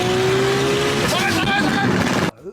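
A Ferrari or Lamborghini sports car roars past close by, loud and sustained with a rising engine note, then cuts off abruptly into quiet with brief voices after.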